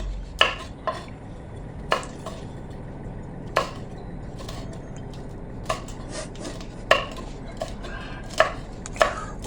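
A knife slices large green chilies thinly at an angle on a cutting board, giving a series of crisp, irregularly spaced chops over a low background hiss, close and fairly loud.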